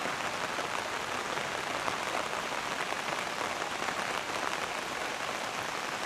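Rain falls continuously during an outdoor walk under an umbrella, a dense, even hiss of drops that stays at a constant level throughout with no voices.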